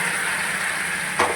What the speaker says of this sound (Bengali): এবার আমি দিয়ে দিচ্ছি গরম জলটা।